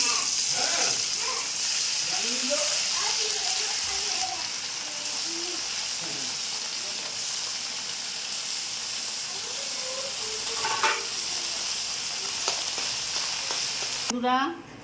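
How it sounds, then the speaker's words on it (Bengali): Chara fish frying in a pan makes a steady loud sizzle and hiss with occasional stirring clinks, while a voice speaks intermittently over the cooking. "মাছ ভেজে তুলে নিয়েছি।"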